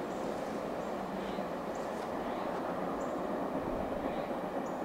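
A CSX freight train rolls past with a steady, heavy rumble and faint high squeals, continuous throughout with no talking.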